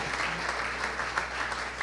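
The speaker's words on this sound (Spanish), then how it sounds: "Denle ese aplauso en esta mañana al Señor." Steady applause from a church congregation, a dense wash of clapping that continues evenly throughout, with a low hum underneath.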